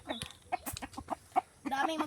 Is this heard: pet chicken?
yes